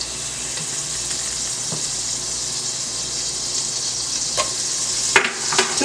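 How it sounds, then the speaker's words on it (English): Butter sizzles and hisses steadily in a pot alongside olive oil for a Barbados brown stew chicken, a constant crackle with a few sharper clinks and pops near the end. "I am gonna start with a couple tablespoons of butter as well"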